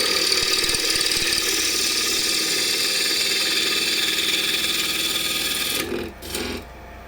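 A KS Schulte Midi II plus wood lathe turns a small piece of wood, giving a steady, loud rasping whir that runs continuously and then dips and stutters briefly near the end.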